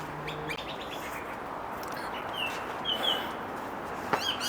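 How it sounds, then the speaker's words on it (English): Birds chirp and tweet in scattered calls against a soft outdoor hiss in a spring garden, a few brighter notes standing out near the end. "Just listen to the birds. It's definitely spring."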